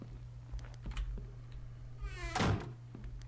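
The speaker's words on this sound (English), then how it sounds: "I always close my doors" A single door thunks shut inside the survival game The Infected, a short solid knock standing out over a steady low hum and faint background clicks.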